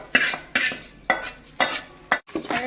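Cooked rice mashed and stirred in a pot with a spoon, five evenly spaced scraping, squelching strokes about half a second apart, close and clear with no talk.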